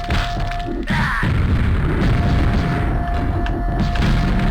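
Rocket launcher explosions in a video game boom loudly in close succession, rumbling continuously with crashing, splintering impacts and no pauses.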